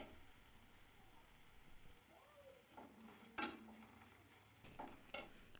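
Coriander powder being stirred into spice masala for dum egg masala gives soft, faint scraping and clinking from a pan and spoon over a low sizzle, with a couple of sharper knocks.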